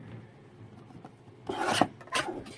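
Paper being trimmed for a scrapbook pocket: after a quiet start, two short scraping, rasping bursts sound close by, the first longer and the second brief, with no voices.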